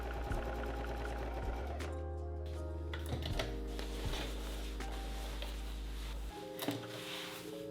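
A sewing machine runs a straight stitch on fabric, its motor humming steadily with a rapid, even needle patter close up. A brief pause and a clunk break the run midway, then it carries on alone.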